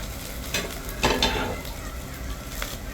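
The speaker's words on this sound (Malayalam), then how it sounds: "കറിവേപ്പില ചേർത്ത് വഴറ്റുകയാണ്" Ginger, garlic, chilli and curry leaves sauté in a pan for carrot mango pickle, a soft sizzle with a few stirring scrapes and taps, fairly quiet and without speech.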